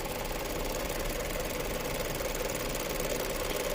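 Rough-running 3.7L V6 engine of a 2014 Lincoln MKX with a faulty valve, a loud, even mechanical clatter and hum that stays constant at close range, no talking.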